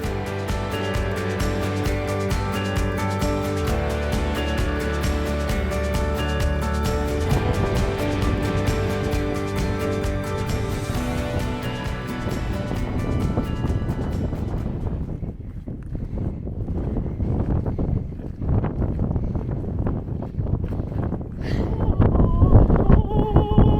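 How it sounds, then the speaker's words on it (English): Strong wind on a Scottish coast buffeting the microphone in steady, loud rushes, with music playing over it during the first half and the gusts continuing alone toward the end. "The wind is pretty bad."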